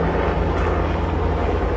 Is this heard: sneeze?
no